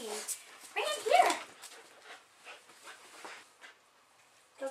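A Border Collie indoors while helping with laundry gives soft whimpers and a short burst of yips and barks, close by and fairly quiet, with a person talking around the sounds.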